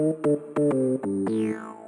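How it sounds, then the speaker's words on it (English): Synth layer for UK minimal house with effects applied: short stabbing chord notes in a syncopated rhythm, with a sweeping high tone and reverb tail at the end, played alone and clear. "Altogether, our synth layer sounds like this."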